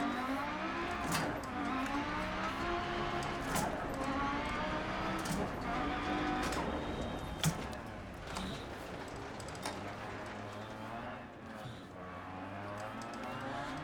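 A rally car in the DiRT 4 racing game drives with a rising and falling engine note through gear changes, scattered with sharp gravel clicks and knocks, moderately quiet and steady throughout.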